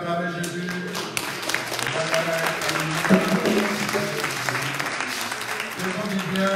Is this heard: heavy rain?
no